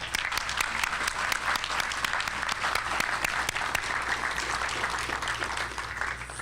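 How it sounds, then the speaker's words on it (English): Sustained applause from an audience at a law enforcement training graduation ceremony, steady dense clapping filling the room for several seconds with no talk over it. "Let's give them a round of applause again."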